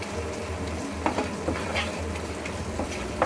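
Arbi gravy with kasuri methi sizzling in a pan while a spoon stirs it, making a continuous close frying hiss broken by several distinct scraping strokes against the pan.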